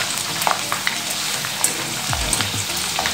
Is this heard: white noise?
no